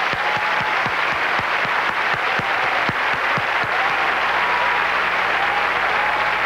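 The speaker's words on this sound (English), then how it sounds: "please join me in applauding all the contestants for the title of Miss Universe" Sustained applause from a large pageant audience at the 1989 Miss Universe contest, a dense, steady roar of clapping with a few sharper claps standing out early on, continuing evenly throughout.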